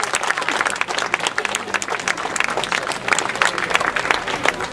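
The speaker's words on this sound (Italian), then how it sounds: "Applauso perché siete venuti." An Italian evening gathering's audience breaks into dense, close applause, a continuous wash of many hands clapping with faint voices mixed in.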